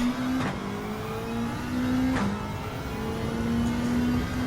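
Racing car engines in Gran Turismo 7, a steady high-pitched drone held close by, with short gear-change dips and other cars humming in the background.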